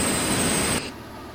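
Simulated airliner climbing out of SeaTac International Airport in Microsoft Flight Simulator X, a loud steady jet engine roar that drops abruptly to a quieter hum partway through.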